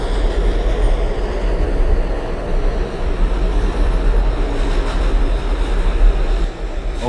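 An R142A New York City subway train runs in the OpenBVE simulator, a loud, continuous rumble and roar of motor and wheels with no voices over it.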